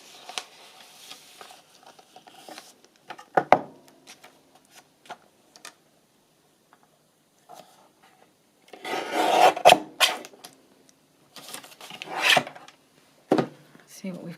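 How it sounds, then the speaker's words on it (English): Paper signature inserts for a book being trimmed, with scattered rasping cuts and rubbing strokes in short bursts, louder clusters near the end, close and fairly quiet with no talking. "I think I'll just trim it along here"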